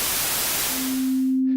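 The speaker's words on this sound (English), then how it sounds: "From white to oscillator to white noise, and we can mix it in." A synthesizer's noise oscillator gives steady, loud broadband white-noise hiss, joined partway through by a sustained pure tone that holds to the end as the hiss cuts away at the close.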